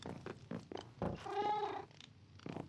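A cat in a cozy interior-decorating video game gives a drawn-out, fairly clear meow between soft purring pulses, short and close.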